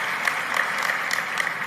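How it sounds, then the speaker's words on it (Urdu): An audience at a religious lecture claps steadily and evenly for the whole moment, the applause dense and fairly close with no voices over it. "کچھ تالیاں آپ کے اپنے لیے"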